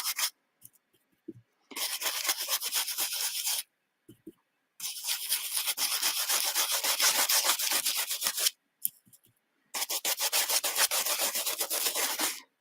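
Wax rubbed by hand onto a stenciled mixed-media canvas with molded details and gritty texture: close, scratchy rubbing strokes in several sustained bursts separated by short pauses.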